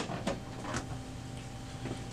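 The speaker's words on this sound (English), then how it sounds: "And then just close the door." An HP Deskjet 2652 printer's plastic access door is pushed shut with a couple of brief, close clunks and rattles over a low hum.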